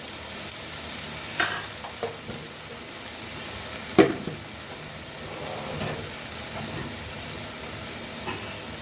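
Ginger paste sizzling in a pan as it is stirred into cauliflower, a steady bright frying hiss with occasional sharper spatula scrapes and clinks near the middle.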